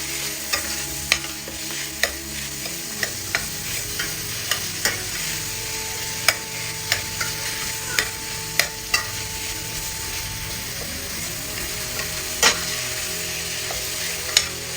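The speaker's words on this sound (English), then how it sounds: "Let me stir them." Beef frying in a pan while a utensil stirs it, a steady sizzle running throughout and regular sharp scrapes and taps against the pan roughly every second, close and alone with no talk.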